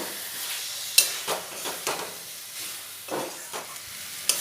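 Fried potatoes being stir-fried in an egg curry masala, with a spatula scraping and stirring through a steady sizzle, the strokes coming in irregular bursts up close with sharp metal clinks at times.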